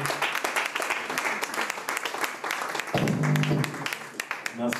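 A church congregation bursts into applause during a worship night, a dense patter of many hands clapping throughout, with voices and cheers mixed in and a loud sustained vocal swell near the end.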